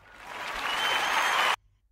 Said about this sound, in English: Yup, it has the applause.